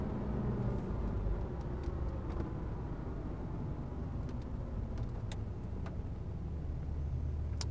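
A diesel truck engine roars steadily through a long dyno pull toward 3,200 RPM, a loud, sustained, rumbling drone with no voices over it.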